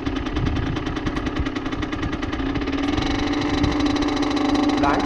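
A moped engine runs steadily as the clutch is slowly let out and a little throttle is given, a close, continuous mid-pitched drone with a rattling, pulsing texture that grows slightly fuller toward the end.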